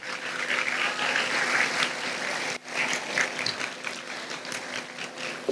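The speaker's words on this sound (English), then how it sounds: "Let's give Chin Ru a round of applause" Audience applause at a student leadership investiture ceremony, steady dense clapping from a hall full of people with a brief dip midway, then continuing with scattered cheers.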